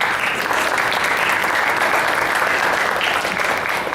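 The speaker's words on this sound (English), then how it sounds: "Give him a round of applause." An audience applauds a young man named James Pack, with dense, steady clapping from many hands held at an even level throughout, no voices standing out.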